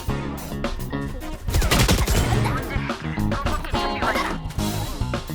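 A grenade blast and rapid gunfire in the tactical shooter game Valorant, dense bursts of shots and a heavy explosion around the middle, loud and continuous over game sounds.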